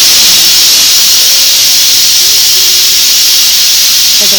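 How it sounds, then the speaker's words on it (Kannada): A pressure cooker on the stove lets off a loud, continuous steamy hiss that stays steady for the whole stretch, with faint background tones underneath. "3 ವಿಷಲ್ ಆಯಿತು."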